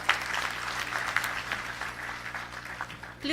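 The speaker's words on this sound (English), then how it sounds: "Please give a better clap for our president." Applause rises from the crowd at the 15th graduation ceremony of Gretsa University in Thika, a fairly soft, continuous clapping that swells again toward the end.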